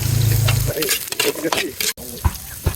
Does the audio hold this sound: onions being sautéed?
yes